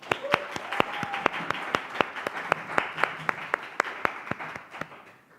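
An audience at a youth speech contest claps in a slow, steady rhythm. Sharp, evenly spaced claps ring out over a soft murmur of scattered clapping and stay fairly loud throughout.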